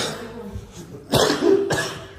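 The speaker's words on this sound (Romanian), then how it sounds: "Mamă, ce tușesc!" Someone coughs hard in a close, loud burst of several coughs, with a quieter pause before a second cough at the end and no talking.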